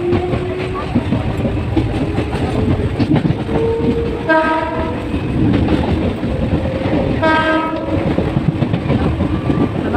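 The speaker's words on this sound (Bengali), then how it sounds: "আমাদের ট্রেন এখন হুইসেল মারতে মারতে চলছে।" A moving passenger train sounds its whistle twice, in two clear blasts a few seconds apart, over a constant rumble of wheels and carriages close by.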